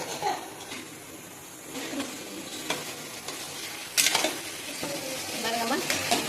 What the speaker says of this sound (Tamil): சிக்கனை போட்டு நல்லா கிளறி வேக விட வேண்டியதாம்மா